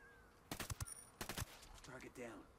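Sync shot gunfire in Ghost Recon Wildlands: two quick clusters of sharp shots, faint and fairly distant, followed by a short spoken line.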